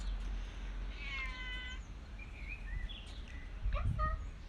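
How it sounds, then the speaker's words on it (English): A house cat yowls indoors with drawn-out wavering meows over a low room rumble, the cries rising and bending, with a few faint bird-like chirps around them. "There's my cat. She yowls like that all the time."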